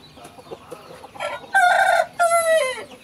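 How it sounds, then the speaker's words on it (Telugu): Roosters on a farm in Repalle crow loudly in two long, close calls, with soft chicken clucking and scattered fowl chatter before and between them. "అన్ని రకాల పుంజులు ఏడా ఉన్నాయి."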